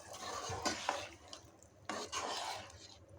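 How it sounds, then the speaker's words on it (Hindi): A spoon stirs yogurt into mutton cooking in a pot for pulao, two bursts of scraping and sizzling that are close and moderately loud, with soft clinks of the spoon against the pot. "अब हम इसके अंदर ऐड करेंगे हमारा 1 कप दही जो हमने लिया था। मेरा दही ऑलरेडी फिटा हुआ ही है। इसको मिक्स कर लेंगे दही के साथ।"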